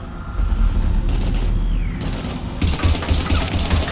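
Gunfire in Mass Effect 3, loud bursts of rapid automatic weapon fire over a dense rumbling combat backdrop, intensifying in the final stretch.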